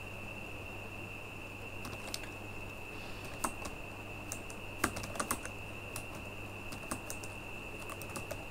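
Light, irregular keystrokes on a computer keyboard as a title is typed, soft clicks in small bursts over a steady electronic hum.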